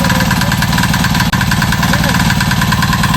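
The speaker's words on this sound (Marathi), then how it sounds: "ट्रॅक्टर बघूया कसा काय विषय होतोय" A tractor engine runs at a steady, loud idle on a Konkan farm, its constant throbbing drone filling the scene while people talk nearby.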